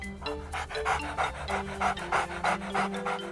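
A dog in the Fortnite video game pants in a steady, rapid rhythm of breathy puffs, close and moderately loud, with a faint tonal hum underneath and no talking.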